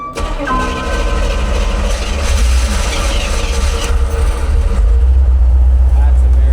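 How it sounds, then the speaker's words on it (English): A Chevrolet Corvette V8 cold-starts nearby: a brief crank catches and swells into a loud, steady idle rumble, with people talking over the engine. "So of course we had to give her a cold start."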